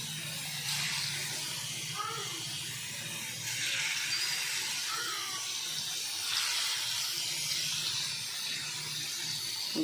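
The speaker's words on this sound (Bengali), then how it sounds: "এগুলো এবার গরম রাইস ব্র্যান্ড অয়েলে আমি ভেজে নেবো।" Dhoka pieces frying in hot rice bran oil, a steady soft hiss and sizzle that continues unbroken, with someone talking over it.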